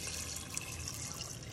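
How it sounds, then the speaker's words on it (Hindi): Water pours steadily into a pressure cooker holding chickpeas, a continuous close splashing rush with no talk over it. "इसमें हम डाल देंगे थोड़ा पानी।"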